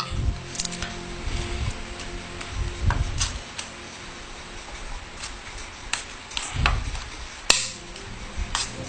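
A metal can being cut for a homemade mosquito trap: a series of sharp, close metallic knocks and crunches in irregular bursts, with a bright ping near the end, and no talking.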